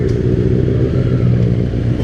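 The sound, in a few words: Benelli 600i motorcycle revving with modified Ixil exhaust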